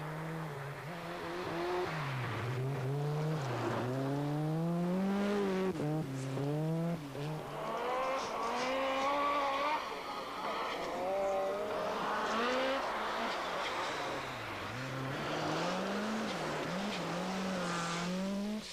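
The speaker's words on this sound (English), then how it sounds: "the tyres become skates as the cars power across a frozen lake" Group B rally car engines roar continuously at the 1986 Swedish Rally, revving up and down sharply as the cars race across a frozen lake, loud and close with no talking.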